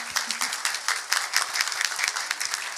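Audience applause at an international seminar on judicial reform in Latin America, a steady burst of many hands clapping at moderate level, sustained throughout with no voices over it.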